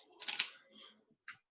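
Quiet burst of keyboard typing from a tabletop role-playing game player, a quick flurry of key clicks followed by a short pause and then a single final tap.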